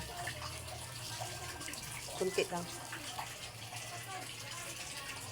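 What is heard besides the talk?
water being poured into a cooking pot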